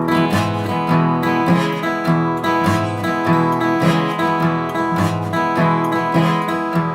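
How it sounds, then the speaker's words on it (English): Slow country shuffle with a swung rhythm and walking swing bass line, full band playing steadily and loud throughout with no voices. "you add a swing rhythm and a swing bass line on it, and it sounds something like this"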